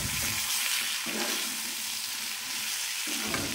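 Sponge gourd (turai) pieces fry in a pan with masala for a curry, a dense, continuous close-up sizzle with faint stirring scrapes, and no one speaking.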